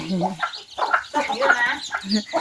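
Chickens cluck in a rapid, uneven series, close by and fairly loud, in a rural Thai farmyard setting where the hens are pecking at feed; a few louder squawks stand out against the steady clucking.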